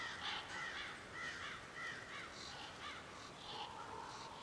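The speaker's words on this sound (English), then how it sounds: "Where's that bird at? It's freaking loud." Birds caw repeatedly in Lies Beneath, a VR game set outdoors with a whole flock, their calls coming steadily over quiet background noise, moderately distant.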